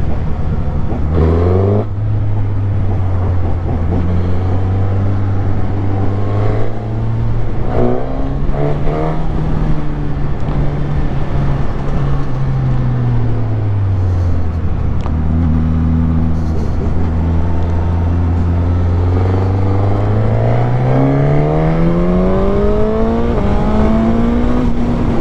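A 2021 Suzuki GSX-S1000 motorcycle engine while riding, its pitch rising and falling as it accelerates and eases off through gear changes, loud and close with wind noise underneath.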